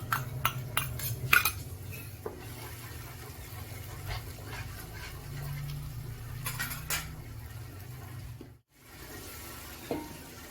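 A spoon scrapes and taps against a pot as thick curd is added to cooked tomatoes for mutton biryani, with a few sharp metal clinks early on and a soft low sizzle underneath.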